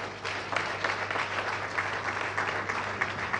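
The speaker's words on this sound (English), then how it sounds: "Can we continue giving her a clap?" A crowd claps for a keynote speaker at an International Women's Day event, giving steady, dense applause with many overlapping claps that stays fairly loud throughout.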